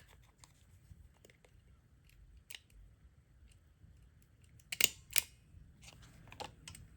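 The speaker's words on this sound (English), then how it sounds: "because I'm supposed to use staples, I thought I would just staple these on. So I got my tiny attacher" Tiny Attacher stapler fastening cheesecloth, quiet scattered clicks and crunches with two sharper, louder snaps near the middle, over a faint background.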